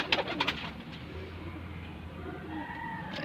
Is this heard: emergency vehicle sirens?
no